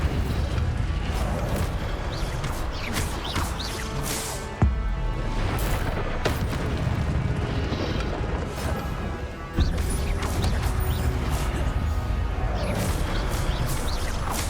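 Spell impacts in Hogwarts Legacy, with the Incendio fire spell among them: loud, continuous crashing and smashing combat effects with sharp, booming hits at intervals, all dense and close.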